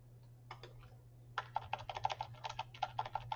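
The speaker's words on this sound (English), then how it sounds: "we're going to type in" Quiet, close computer keyboard typing: a few scattered taps, then a steady run of crisp clicks over a faint low hum.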